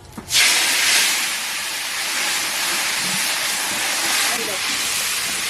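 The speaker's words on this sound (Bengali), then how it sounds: "দিয়ে দেবো কেটে রাখা টমেটো আর লঙ্কা কুচি, অর্থাৎ কাঁচা লঙ্কা কুচি" A loud burst of sizzling as chopped tomato and green chili hit hot oil already seasoned with bay leaf, whole cumin and dried chili, the steady hiss holding strong and close throughout.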